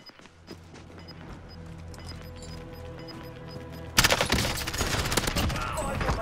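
Gunfire in the shooter game Call of Duty Warzone: quiet footsteps and faint ticking give way to a sudden burst of rapid, loud automatic fire that rattles on in close, dense volleys, with no talk.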